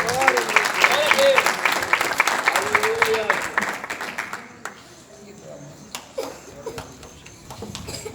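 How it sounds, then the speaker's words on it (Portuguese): A church congregation claps and applauds, a loud round of applause under a voice speaking over it, fading after a few seconds to scattered claps and quieter murmuring. "e aplauda o Senhor"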